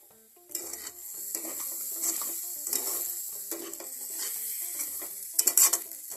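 A spoon stirs idly upma in a pan, giving soft, repeated scraping strokes in a steady rhythm over a faint background sizzle, close and moderately quiet, ending with a few louder clinks.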